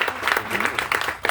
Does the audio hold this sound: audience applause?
yes